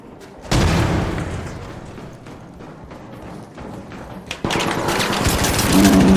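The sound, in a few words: grenade explosion in a PvP video game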